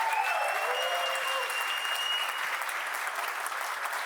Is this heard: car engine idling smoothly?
no